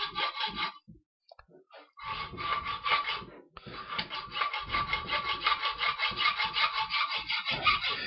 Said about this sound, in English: Now at this point, I'll change the angle of the saw blade.